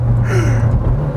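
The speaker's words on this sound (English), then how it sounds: "listen to that roar" A loud, steady low engine roar from inside a Ferrari 430 Scuderia, droning evenly throughout with a faint rising whine layered over it.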